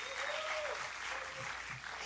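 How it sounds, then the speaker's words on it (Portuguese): A church congregation claps for Pastor Marcelo, a soft, even patter of hands heard at a distance and fairly faint, with a faint tone sounding briefly near the start. "Vamos aplaudir o pastor Marcelo, gente?"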